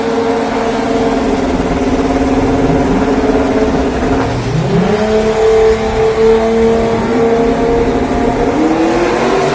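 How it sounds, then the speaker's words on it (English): Loud drag racing cars roar steadily at the start line, then rise sharply in pitch as they accelerate hard off the line, revving up through the gears. "Second off the start line, but Leal gets immediately passed"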